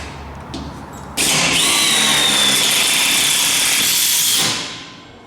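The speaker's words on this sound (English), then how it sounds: "And by the way, this is a screw gun." A screw gun drives hinge screws into a plywood horse stable panel, a loud high-pitched motor whine that runs steadily for about three seconds before winding down.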